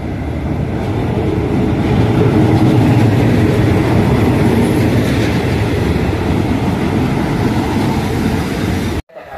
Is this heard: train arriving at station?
yes